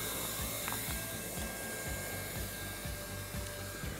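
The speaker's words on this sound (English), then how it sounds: "I'm gonna go ahead and turn up my welder and do it the other way." A hot-air plastic heat welder runs at a raised setting during plastic welding, giving a steady, close blowing hiss with a low rhythmic pulsing underneath for the whole stretch, with no talk.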